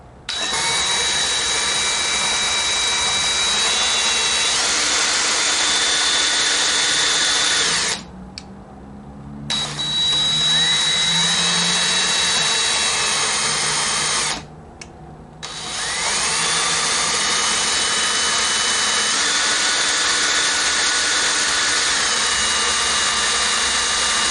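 A loud 1500 RPM electric drill whines steadily, stopping twice briefly before spinning up again, its pitch shifting slightly as it runs.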